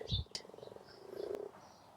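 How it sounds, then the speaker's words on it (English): Several frogs croak from a tiny garden pond in a wild Welsh garden, a run of close, rapid pulsing calls that swell and fade over about two seconds, with a brief low thump near the start. "who would have thought it, that there'd be so many frogs in my tiny little pond?"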